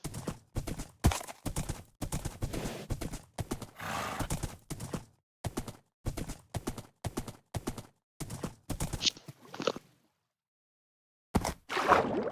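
Minecraft horse hooves clip-clop in a steady rhythmic series, crisp and close, pausing briefly near the end before resuming; a short whinny is heard too.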